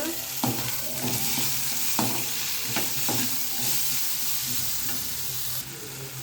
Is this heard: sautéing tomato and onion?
yes